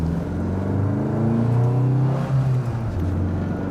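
A Mini car with a high-torque engine accelerates in second gear at low revs, a close, steady rising drone with a deep rumble and no talking.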